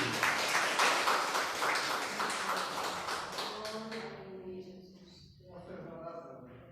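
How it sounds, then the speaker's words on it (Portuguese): A church congregation claps in a burst of applause that fades over a few seconds, leaving quieter scattered sounds and faint voices. "Uma salva de palmas para Jesus."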